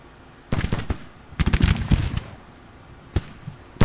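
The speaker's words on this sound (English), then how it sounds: "Shots for you from over there" Gunshots in Grand Tactician: The Civil War, a scattered volley of sharp cracks in clusters, some near and some farther off, with a few isolated shots after short pauses.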